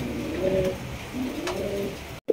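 A pair of blue bar beauty pigeons coo in soft, low repeated calls, close and clear against a quiet background, ending with a brief knock.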